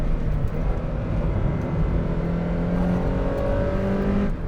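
A 1999 Mazda MX-5 Miata NB with a five-speed manual winds out steadily under acceleration, its engine drone rising gradually and heard from inside the cabin beneath road and wind noise.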